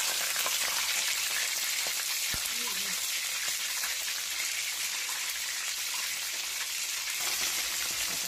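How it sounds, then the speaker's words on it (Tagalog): Chicken frying in oil for spicy buttered garlic chicken, a steady broadband sizzle and crackle running evenly throughout, close and moderately loud, with a faint low thump near the start. "Tapos na tayo magprito."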